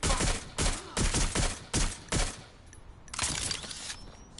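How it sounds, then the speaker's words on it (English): Gunfire in Watch Dogs: Legion rings out as a string of loud, rapid bursts, five or six evenly spaced volleys close together, then a rougher, fainter stretch of shots and game noise. "Suspect has opened fire!"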